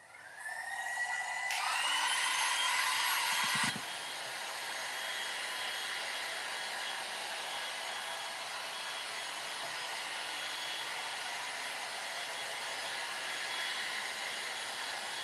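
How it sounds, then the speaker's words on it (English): Heat gun blowing hard for a few seconds at a craft table while making custom door hangers, a loud steady airy rush that stops abruptly, leaving a quieter constant fan-like hiss; no talking. "I normally always take my heat gun."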